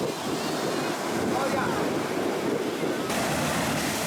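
Sea waves crash and churn continuously at Little Venice on Mykonos, driven by strong wind that buffets the microphone, loud and close with a brief surge near the end.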